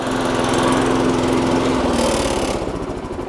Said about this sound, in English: And that's how you start the petrol mower.